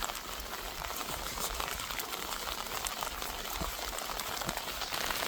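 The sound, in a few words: rain falling during typhoon Kristine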